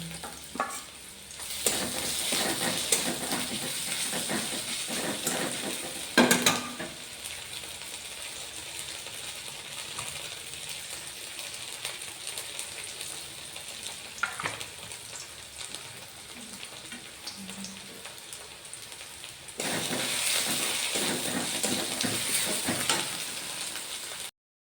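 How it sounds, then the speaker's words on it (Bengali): Steady sizzling of garlic paste frying in a hot pan, with occasional scraping and stirring, louder bursts near the start and end. "রসুনটা ভাজা ভাজা হয়ে গেছে"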